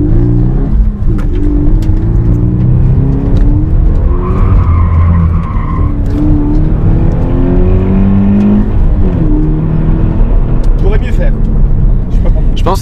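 A Toyota GT86 slides and skids with sustained tire squeal over a steady engine drone, loud and heard from inside the car while people talk over it.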